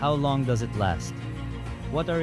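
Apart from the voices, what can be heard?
No everyday noise stands out behind the speech.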